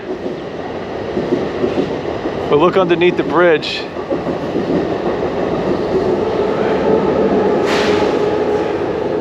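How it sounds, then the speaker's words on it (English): A train rumbles past over a bridge with a steady mechanical roar and a brief high squeal, while a person speaks briefly near the start. "There goes the train now."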